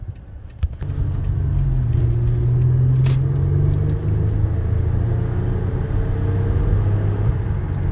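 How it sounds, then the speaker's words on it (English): A 2006 Lexus RX330 SUV heard from inside the cabin, its engine rumbling steadily and rising as it accelerates along the road, a continuous low drone lasting throughout with no voices. "It's got good acceleration."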